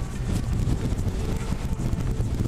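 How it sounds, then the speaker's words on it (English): Strong wind roars and buffets a microphone steadily, a dense low rumble with no pauses. "It's really windy now."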